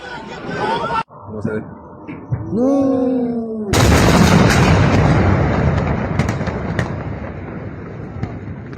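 Loud booming blasts erupt after a rising wail, leaving a rumbling, crackling roar while people shout nearby, during a night attack on Caracas, Venezuela, with low-flying aircraft reported.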